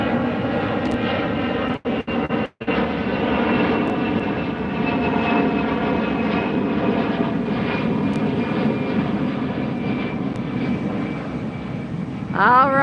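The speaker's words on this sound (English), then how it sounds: "Another Delta taking off." Delta Airlines Airbus A320 taking off from LAX, a steady, fairly loud jet engine roar with a high whine running throughout, briefly interrupted by a couple of short dropouts early on.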